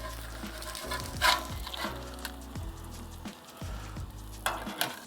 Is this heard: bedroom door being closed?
no